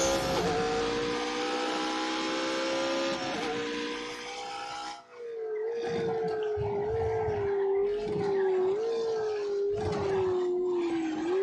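A McLaren in The Grand Tour Game roars at high revs with a loud sustained engine whine, drops briefly as it shifts, then climbs again, wavering steadily under acceleration, close and with no talk.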